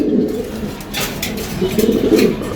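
Pigeons at a market stall, among them black beauty, homer and local deshi birds, coo in low rolling phrases close by, with a softer burst early and a fuller cluster of coos toward the end.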